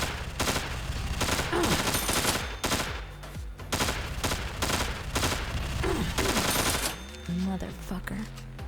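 Rapid bursts of gunfire from the video game Organosphere, loud, dense volleys separated by brief pauses, with some background game sound and a low voice near the end.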